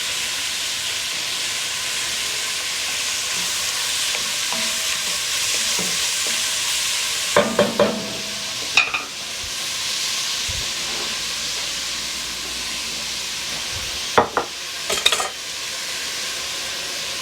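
Peppers and onions sizzle steadily in a pot for brisket chili, a close, continuous frying hiss broken by a few sharp scrapes and clatters of a spoon stirring, with no talking.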